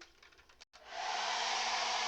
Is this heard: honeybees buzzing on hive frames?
no